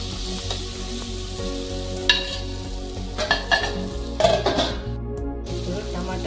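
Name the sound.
garlic, green chilies and tomatoes frying in a pan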